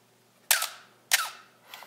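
A Canon A1 film SLR shutter fires at a slow speed, giving two crisp mechanical clacks about half a second apart, each with a short whirring tail. A fainter click follows near the end in a quiet room.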